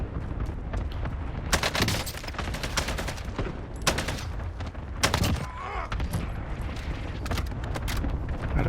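Airstrike explosions and heavy gunfire in Call of Duty Warzone on Verdansk: dense, loud automatic bursts and repeated booming blasts, several sharp impacts standing out over continuous fire.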